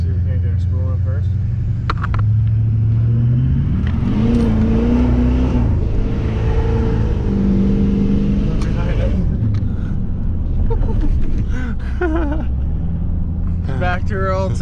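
Duramax diesel pickup engine revving up with turbo spooling after a new fuel sending unit, filters and FASS lift pump were fitted, a loud, steady, deep rumble rising in pitch and then easing, with people talking over it.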